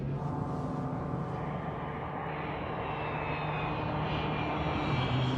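A fixed-wing airplane comes in to land, its engines giving a loud, steady roar with a rising whine, a scene from the film Taxi 2 at an airport.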